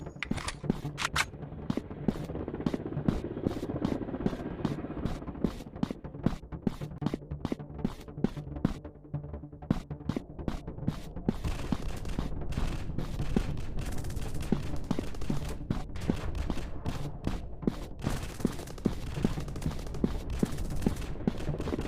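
Sustained bursts of rapid gunfire in a first-person shooter game, likely PUBG, snap in dense rhythmic volleys with brief lulls, close and fairly loud.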